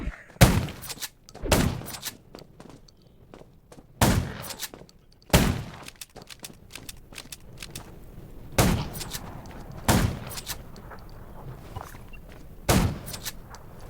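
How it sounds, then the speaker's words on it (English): Loud gunshots from the zombie video game Undawn crack out one at a time at uneven intervals, about ten sharp reports over a low, rumbling background. "Gunshots."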